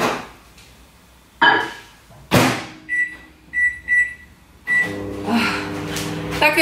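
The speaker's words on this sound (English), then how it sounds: "That goes in the microwave for 3 minutes" A microwave oven in a home kitchen gives a few short beeps and a door clunk, then settles into a steady, close electric hum with a low buzz.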